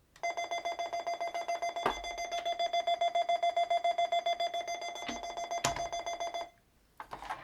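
A Fisher-Price outer space electronic toy plays a shrill, beeping alarm-like tone in rapid steady pulses, loud and close, with a couple of clicks, stopping abruptly near the end.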